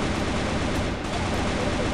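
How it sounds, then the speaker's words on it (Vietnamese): Dense, continuous gunfire from the mobile shooter game CF Mobile fills the mix, loud and close with rapid overlapping shots and no pauses or talking. "lắc tiếng súng rồi,"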